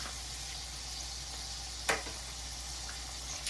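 Meatballs shallow frying in oil in a pan, a steady close sizzle throughout with one brief louder crackle or scrape near the middle.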